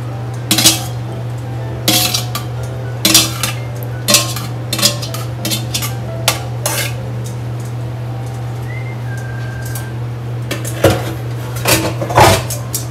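Dishes, pots and cutlery clatter and clink in a kitchen sink while being handled for washing after cooking seafood pesto pasta, sharp irregular knocks over a steady low hum.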